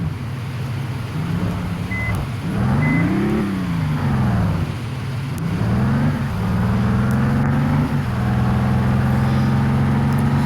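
A bus engine in the game Bus Simulator Indonesia drones and revs through several gear changes, its pitch swelling and dipping steadily, with a couple of short electronic beeps early on and no speech.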